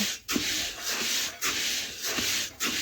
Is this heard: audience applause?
no